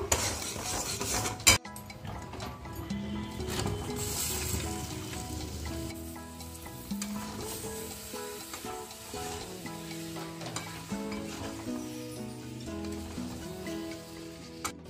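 Amla gooseberries being tipped into melted jaggery in a pan while pickle is made, with a clatter of the pan and utensils, soft sizzling and clinks at a fairly low level.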